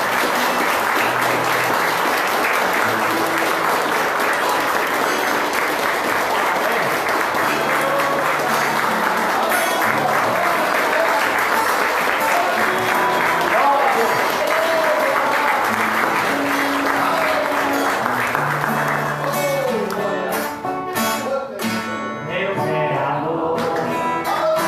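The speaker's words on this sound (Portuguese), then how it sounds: "Vamos dar uma salva de palmas para Jesus bem forte" Sustained, loud applause from a large church congregation fills the space, steady and dense, thinning into scattered claps near the end.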